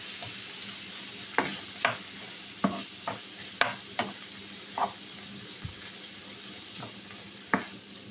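Chicken stirred with green zucchini and potatoes in a pan, a steady low sizzle under a dozen or so scraping clicks of the utensil against the pan at irregular intervals, close and fairly quiet.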